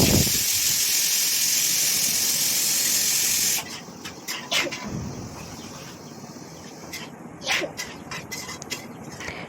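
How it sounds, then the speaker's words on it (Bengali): A pressure cooker full of dal vents with a loud, steady hiss of steam for several seconds, then stops abruptly, leaving quieter scattered kitchen clicks. "এখানে পাশে আমি একটু ডাল বসিয়েছিলাম, ডালের সিটি মেরে দিল।"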